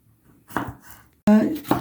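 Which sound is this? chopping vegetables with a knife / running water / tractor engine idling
chopping vegetables with a knife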